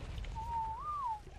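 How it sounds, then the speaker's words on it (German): A player's whistle command in the video game Ark: Survival Evolved: one clear, sustained whistled tone lasting about a second that holds steady, then rises slightly and falls away. It is heard alone over faint low background hum. "Aber wer hat denn hier schon wieder da gepfiffen?"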